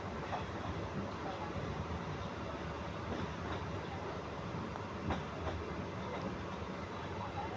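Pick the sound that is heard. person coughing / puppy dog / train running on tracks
train running on tracks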